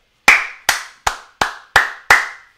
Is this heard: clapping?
yes